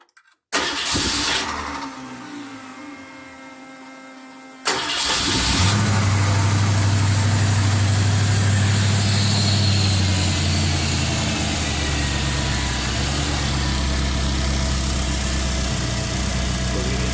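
A car engine fitted with Holley Sniper EFI cranks and catches, settles briefly, then revs up and holds a loud, steady idle close by.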